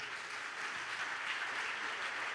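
A church conference audience applauds, producing a dense, even wash of clapping that runs steadily throughout without voices standing out.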